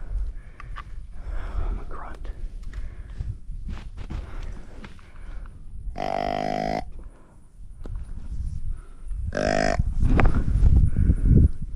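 A nervous cow standing in a pond lets out two loud, drawn-out moos close by, separated by a few seconds, with rustling movement and quiet speech around them.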